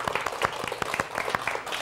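Brief round of church congregation applause during a Thanksgiving service: scattered, moderately quiet hand clapping from a modest group, fairly close and irregular in rhythm.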